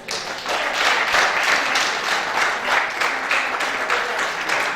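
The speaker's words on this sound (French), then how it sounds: "moi je suggère que de nos mains nous fassions un gros bruit" A crowd at a JCI Abomey-Calavi mandate launch event claps in a steady round of applause, dense and continuous with a few rhythmic clap accents and faint voices mixed in.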